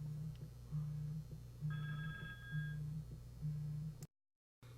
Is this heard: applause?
no